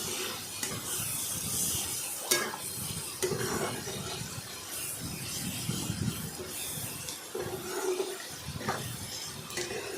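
Onion and garlic fry in a pan with a little turmeric while being stirred. A fairly faint, continuous rustling sizzle is broken by irregular scraping strokes of the spoon, and no one speaks.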